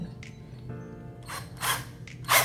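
A cordless drill's chuck is hand-tightened around a drill bit, giving short ratcheting clicks and whirring bursts that grow louder toward the end, close up and with no speech.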